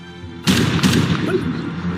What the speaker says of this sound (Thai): เสียงปืนมาจากไหน